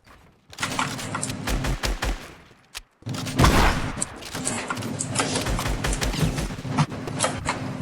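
Rapid bursts of assault rifle fire from a mobile-versus-PC build battle video game, loud and continuous, with dense sharp reports repeating over about seven seconds after a brief pause near the start.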